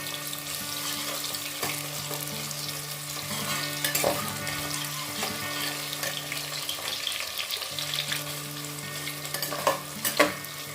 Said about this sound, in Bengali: পেঁয়াজটা আমি সরু সরু করে কুচিয়ে নিয়েছি। এটা আমি খানিকটা ভাজা করে নেব।